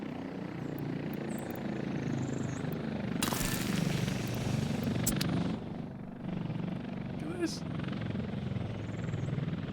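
Mi-6 helicopter in Workers & Resources: Soviet Republic, a continuous low rotor drone and engine hum that stays steady throughout, with a brief burst of hiss midway and a sharp tick near the end.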